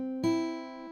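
Guitar lesson phrase: a sustained note followed by a single plucked note on the top strings, ringing clearly and close with no talk.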